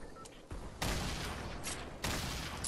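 Fortnite gunfire during a squad fight, coming as dense bursts of shots with a loud sustained volley near the start and another burst toward the end, under a low game background.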